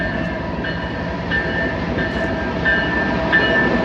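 A loud, steady rumble of a train rolling past close by on tracks in rural Wyoming, with a faint metallic whine from the wheels.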